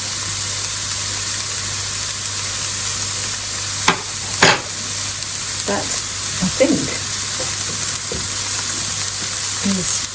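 Risotto rice stir-fried in a pan, giving a steady close sizzle and hiss throughout with a few scraping stirs and clatters, while a voice speaks briefly.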